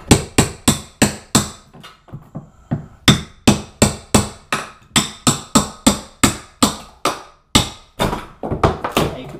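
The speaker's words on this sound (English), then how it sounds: "if I was trying to remove this whole floor, I think I'd have to go at it with the hammer." Hammer blows knocking glued cork floor tiles off plywood: a close, loud run of about two dozen sharp knocks in a quick, uneven rhythm, with a brief pause partway through and a fast flurry at the end.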